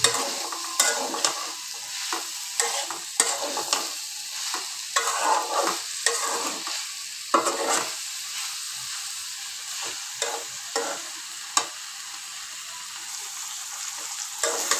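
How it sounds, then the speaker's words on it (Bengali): Curry with spices being sautéed in a pan: repeated stirring and scraping strokes over a steady sizzle, close and fairly loud, with no talking. "এই তো আমার তরকারিটা কষানো হয়ে গেছে, আমি খুব ভালো করে কষাই নিলাম।"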